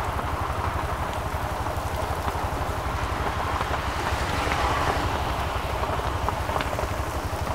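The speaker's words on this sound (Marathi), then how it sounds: "खतरनाक पाऊस पडतो इकडे" Heavy rain pouring while an auto rickshaw is on the road in the Turbhe MIDC area, a constant broad wash of rain noise over a low engine drone, steady and unbroken throughout.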